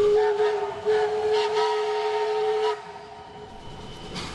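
Steam locomotive at the Niles Canyon Railway Steamfest, a week-long event with five steam engines, sounds a long, sustained whistle over rumbling train noise, then the whistle stops and the rolling train continues more quietly.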